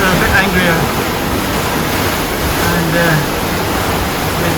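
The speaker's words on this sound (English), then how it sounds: "the bigger waves do tend to come over the back" Rough sea waves and strong wind of 20 to 25 knots rush around a sailboat in a loud, continuous roar of water and air, with someone speaking briefly over it.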